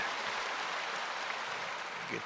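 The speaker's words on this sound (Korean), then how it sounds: "지금 박수 칠 일은 아니고" A church congregation applauds during a Sunday sermon, a steady, moderately loud wash of clapping hands that fills the whole moment without breaks.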